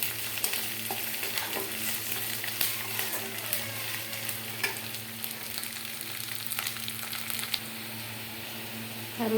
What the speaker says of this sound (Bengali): আদা রসুনের কাঁচা গন্ধটা চলে যাওয়া পর্যন্ত আমি একটু এভাবে নেড়ে নেব।